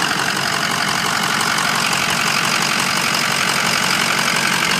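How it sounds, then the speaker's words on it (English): A Ford engine idles under the open hood, a loud, close, steady mechanical clatter and hum that holds constant throughout with no speech. "I started showing the running motor under the hood"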